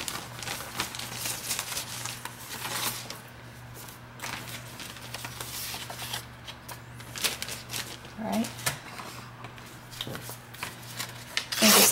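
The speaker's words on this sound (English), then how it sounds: "We'll just grab this bag of little bits out of paper." A hand rummages through a bag of mixed paper scraps, producing close, soft crinkling and rustling bursts that come and go irregularly.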